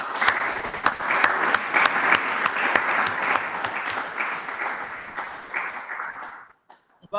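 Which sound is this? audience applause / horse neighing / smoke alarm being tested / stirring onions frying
audience applause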